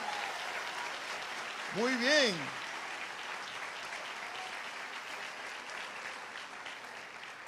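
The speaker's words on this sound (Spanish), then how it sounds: "Denle un aplauso fuerte." A church congregation at an Assemblies of God service in Tegucigalpa applauds the musicians and singers, a steady wash of clapping filling the whole stretch while a voice briefly speaks over it.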